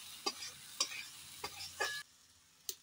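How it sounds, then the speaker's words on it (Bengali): Masala with sugar being stirred and fried in a pan for gondhoraj bean curry: about five distinct scraping strokes of a spoon at a steady pace over a faint sizzle, fairly quiet, no voices. "চিনিটা দিয়ে ভালোভাবে কষিয়ে নিচ্ছে।"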